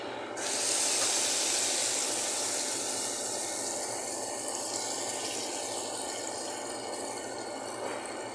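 Beaten egg poured into hot oil in a pan for an omelette sets off a sudden, steady hiss of sizzling that starts sharply and fades slowly, heard close with no voices.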